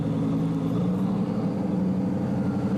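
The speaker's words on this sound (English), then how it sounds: "It sounds amazing with the Mansory exhaust system." Supercar engine fitted with a Mansory exhaust system, running steadily with a deep, low rumble, close and loud throughout, without talk.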